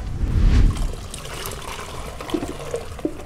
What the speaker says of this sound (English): we're going to pour our broth into the other broth.